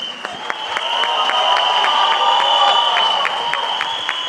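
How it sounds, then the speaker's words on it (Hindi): A crowd at a film trailer launch event applauds and cheers for the team, with loud sustained clapping and crowd noise over a steady high whistle-like tone, plus rhythmic beats running through it. "एक बार जोरदार तालियां फॉर दिस टीम।"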